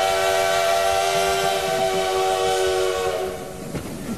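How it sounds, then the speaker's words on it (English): A steam train travelling through Wyoming in 1892 sounds a long, loud, sustained whistle over the rumble of the moving train, fading toward the end. "a special train was making its way through Wyoming"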